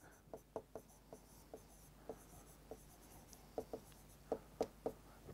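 Pen writing out given data values on paper or a board during a Class 10 physics lesson: a series of short scratchy strokes, irregular taps and scrapes spread across several seconds, faint and close, with no talking.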